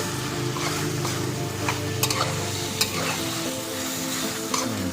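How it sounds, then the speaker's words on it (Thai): Chicken stir-fries with sugar and seasoning powder in a hot pan for holy basil chicken: a steady close sizzle with a few sharp spatula clinks against the pan. "ผัดให้เข้ากันนะครับผม"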